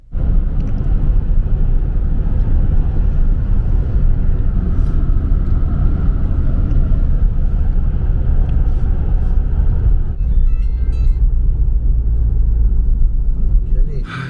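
A shared car drives along a mountain road in Tajikistan, heard from inside. A steady, loud engine and road rumble runs unbroken throughout, with faint rattles on top.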